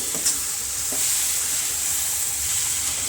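Masala and chopped coriander roast in a pan for dhaba-style paneer bhurji. A close, steady sizzle runs under quick stirring scrapes and a light tap, with no speech.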